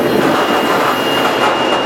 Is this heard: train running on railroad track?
yes